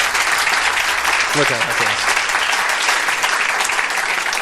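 Studio audience clapping steadily for a guest, dense and continuous throughout, while someone briefly speaks over the applause.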